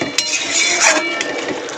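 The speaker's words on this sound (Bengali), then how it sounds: "দিয়ে টমেটোটার সঙ্গে ভালো করে মিলিয়ে দেব ভেজে রাখা আমুদি মাছগুলো।" Fried amudi fish being stirred into tomato curry in a pan, a steady scraping and clinking of utensil against pan with faint sizzling underneath, close and continuous with no talking.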